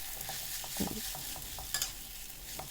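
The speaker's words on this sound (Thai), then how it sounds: "ก็ผัดให้เข้ากับไข่นะคะ" Soaked dried glass noodles stir-fried with egg in a hot pan, a steady sizzle under repeated scraping strokes of a spatula, close and continuous.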